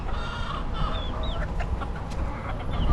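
Hens and roosters cluck and squawk together in a busy outdoor flock in the Florida Keys, with a few higher squawks poking out over steady clucking, fairly close and continuous.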